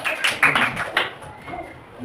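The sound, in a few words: applause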